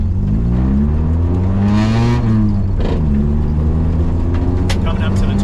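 A front-wheel drive car's engine revs during a J turn, a loud, close engine whine that climbs, dips and climbs again as the car shifts into reverse.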